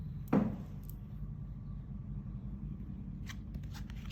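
Angels Among Us oracle cards are handled near the microphone, with one sharp tap or shuffle early and then soft, scattered handling noises over a steady low background hum.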